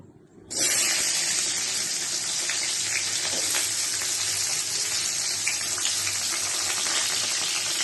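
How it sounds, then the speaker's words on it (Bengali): Chopped onions hit hot mustard oil in a pan where fish was just fried, setting off a sudden loud, steady sizzle that carries on unbroken, close up, with no talking. "এবার দিয়ে দেবো কুচনো পেঁয়াজ"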